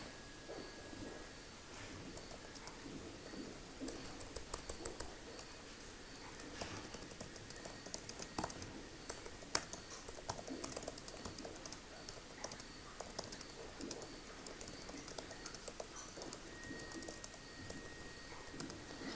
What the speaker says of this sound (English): I'm typing on Facebook